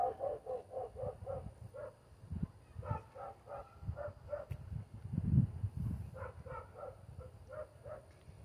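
A small dog barks in quick repeated bursts of several yaps, pausing and starting again, moderately close over a low background rumble.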